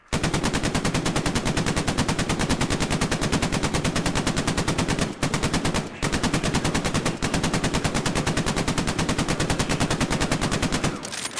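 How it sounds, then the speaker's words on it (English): A half-track's mounted machine gun in the game Battlegrounds fires long, rapid, unbroken bursts, loud and close, with only a couple of brief pauses across the stretch. "the half track is one of those things where you don't really see the gun used too much"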